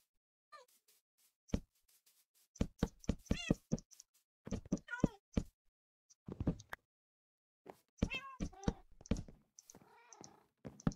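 A Minecraft cat meows several times in short, rising and falling calls spread through the stretch, interspersed with clicky blocky thunks and taps from gameplay, close and clear against near silence.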